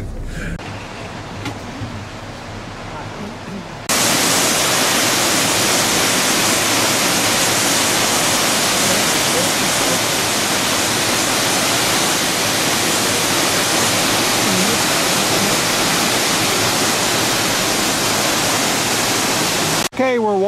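Waterfall on a Columbia River trip, heard from the path up to the bridge in front of it: a voice speaks quietly at first, then a loud, dense, continuous roar of falling water fills the rest.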